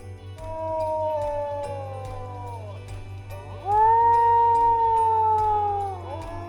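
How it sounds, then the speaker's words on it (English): A wolf lets out two long, wavering howls, the second louder and sliding downward at the end, over a faint steady rhythmic backing. "What sound does a wolf make?"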